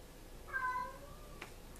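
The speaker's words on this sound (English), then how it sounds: "My cat is meowing." A house cat gives one drawn-out meow from somewhere indoors, moderately loud against a quiet room with faint background noise.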